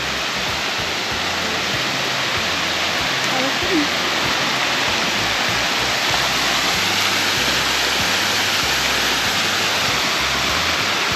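A waterfall pours in full flow on a hiking loop in Ariège, a loud, dense and constant roar that fills the whole clip.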